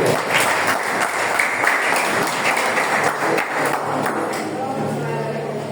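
A church congregation clapping during a Spanish-language service, a steady wash of many hands that softens near the end while a voice speaks over it.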